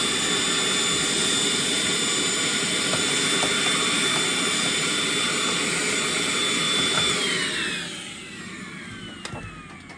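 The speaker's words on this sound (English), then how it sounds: "Okay, vacuum." A vacuum cleaner runs on a boat with a steady, loud whine and roar, then winds down toward the end as the motor is switched off.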